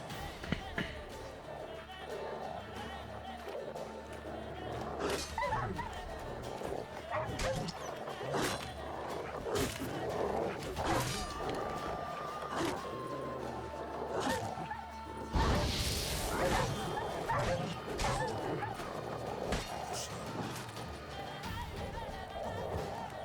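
Dogs bark repeatedly in The Witcher 3 as aggressive hounds attack during combat, with sharp yips and barks mixed into clashing game sound effects, swooshes and music throughout.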